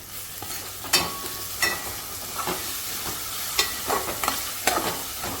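Onion frying in a pan for a chole gravy, stirred now and then, giving a steady low sizzle broken by several sharp scraping clinks of a utensil against the pan, with no voices.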